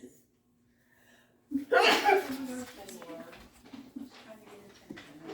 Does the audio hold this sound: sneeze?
yes